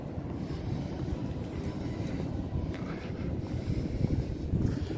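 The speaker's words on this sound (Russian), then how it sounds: "Море сегодня прямо бушующее. Волны просто немеренные." A stormy sea on a rough day: heavy surf and gusting wind roar together in a dense, constant low rumble, loud and close, with no speech.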